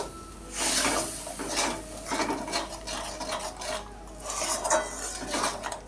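Spice paste with a splash of water being stirred and cooked down in a pot for a Jagannath temple-style besara offering, scraping and rasping against the pot with repeated strokes, close and fairly steady.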